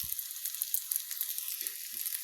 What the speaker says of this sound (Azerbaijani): bilinçiklərimizi qızardırıq